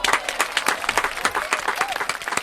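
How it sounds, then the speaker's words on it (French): A studio audience applauds to welcome a guest on a French radio show, with dense, lively clapping near the microphone that holds steady from start to finish. "Il y a même des applaudissements."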